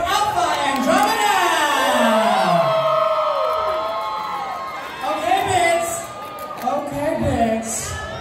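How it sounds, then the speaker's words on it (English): Crowd at a drag battle show cheering and whooping for a performer's entrance: loud, overlapping shouts and high whoops that swell, ease off, then surge again in bursts. "with a big, huge round of applause, all the way from San Jose, give it up for Alpha Andromeda!"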